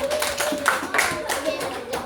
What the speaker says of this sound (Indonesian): kita beri tepuk tangan sekali lagi untuk kelima teman kita dan juga untuk kalian semua